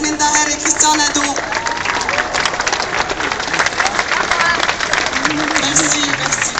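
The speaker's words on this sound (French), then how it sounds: "j'aimerais encore une main d'applaudissement, s'il vous plaît, à Mme Yasmine Daher et Christian Nadeau" A crowd at a Gaza rally in Montreal applauds, dense clapping mixed with some cheering that carries on loudly and evenly throughout.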